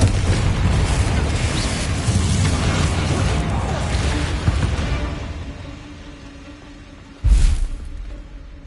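In Hogwarts Legacy, a Confringo explosive spell goes off as a deep boom and a sudden burst near the end of the clip. It follows a dense, rumbling stretch of game combat noise that fades toward quiet.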